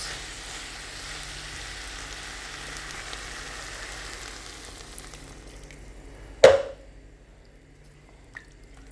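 Spiced food in a hot pan hisses steadily, then water pours in with a sudden loud splash and burst of sizzle that quickly fades to near silence, with a faint clink afterward.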